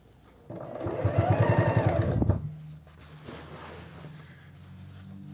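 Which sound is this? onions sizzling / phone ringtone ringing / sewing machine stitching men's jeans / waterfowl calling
sewing machine stitching men's jeans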